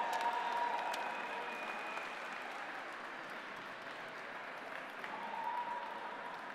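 Steady, dense applause from a crowd at the Robocampeones 2015 robotics competition award ceremony, filling the whole stretch at moderate volume with a slight swell near the end.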